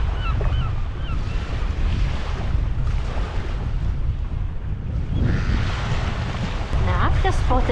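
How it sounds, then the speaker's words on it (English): Waves wash onto a Scottish beach in a steady, close, continuous surf roar, with wind buffeting the microphone throughout and swelling slightly near the end. "just listen to the sound of the water"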